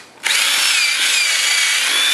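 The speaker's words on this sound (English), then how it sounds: "I'm going to ream these holes a little bit with the drill so I can get the bolt through easier" A power drill revs up sharply and runs at a steady high whine while reaming holes in a wooden table leg, loud and close with no talk over it.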